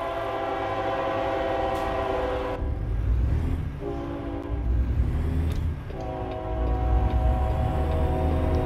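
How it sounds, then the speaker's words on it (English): Train horn blaring in sustained blasts over a rumbling rail clatter in American Truck Simulator, loud and close, with the engine's low drone throughout. "I can hear the train coming."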